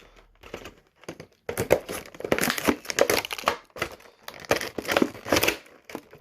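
Crinkling, crackling plastic as scissors cut through the stiff clamshell packaging of a McFarlane Dan Marino figure, irregular bursts of snipping and rustling up close.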